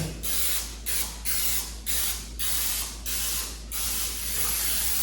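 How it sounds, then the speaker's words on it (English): Cooking spray greases a cake pan for cinnamon rolls in six or seven loud, close bursts of hissing aerosol, each about half a second with short gaps, ending in a longer spray. "I'm going to start by greasing my pan"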